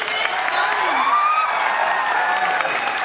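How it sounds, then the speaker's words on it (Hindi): A seminar audience for UPSC and MPPSC aspirants gives steady, dense applause and cheering to welcome speakers, a continuous loud wash of clapping that fills the whole stretch, with a voice sliding through the crowd noise. "एक बार जोरदार तालियों से स्वागत किया जाए।"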